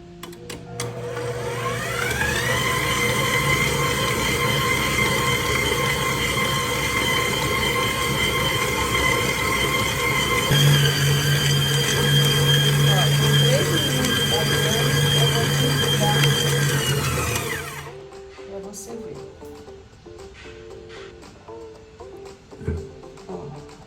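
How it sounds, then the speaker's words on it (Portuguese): An electric stand mixer kneads bread dough with a loud, steady motor whine that spins up, holds for about fifteen seconds with a shift in tone midway, then cuts off, leaving light clatter. "Agora eu vou bater, vou ligar minha batedeira."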